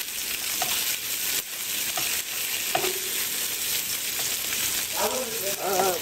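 Food frying in a pan for a sweet and sour soup, with a steady, close sizzling hiss and stirring throughout, and a faint voice briefly near the end.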